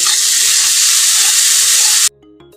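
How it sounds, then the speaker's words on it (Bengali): Spice masala fries in a pan with a loud, steady, hissing sizzle that cuts off abruptly, leaving faint clinks. "মশলাটা ভালো করে কষে গেছে"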